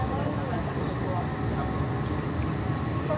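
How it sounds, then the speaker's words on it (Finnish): Steady rumbling drone of a three-car metro train in motion, continuous and fairly loud throughout with a faint murmur of voices underneath. "Tää on kolme vaunuinen metro."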